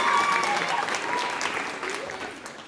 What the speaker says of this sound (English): Clap for Peter.